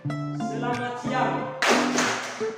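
A classroom of students doing a rhythmic call-and-response greeting clap, spoken chant mixed with sharp patterned claps in quick bursts, with a louder burst of clapping near the end.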